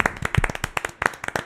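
A quick run of close hand claps in an uneven, rapid rhythm, about a dozen sharp slaps in a second and a half, with no talking over them.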